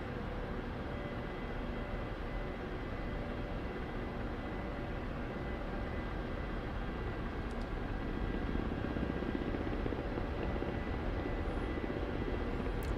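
Steady, dense rotor and turbine drone of a Ka-50 Black Shark attack helicopter in the DCS flight simulator, hovering low with a constant, loud wash and no voices over it.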